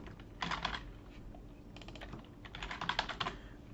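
Quick bursts of typing on a computer keyboard as names are entered into boxes in meshing software, with soft close key clicks in two clusters separated by a short lull.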